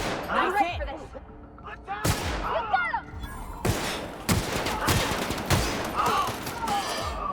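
Gunfire in The Outer Worlds, a sci-fi shooter game: several sharp shots land in an irregular burst over a busy in-game soundscape with other creature-like and effect noises.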